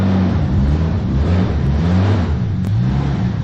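A JDM Toyota Supra engine running on an AEM Infinity ECU revs up and down in steady rising and falling sweeps, loud and close with a rough mechanical growl and no voices.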